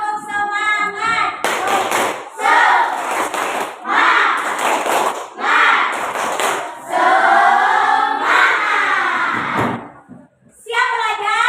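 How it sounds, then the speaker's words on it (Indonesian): Children perform a tepuk semangat spirit chant in an Islamic religious lesson, clapping in loud rhythmic bursts while chanting voices run through almost the whole stretch, with a brief pause near the end. "sebelumnya kita tepuk semangat"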